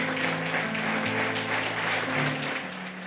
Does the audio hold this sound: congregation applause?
yes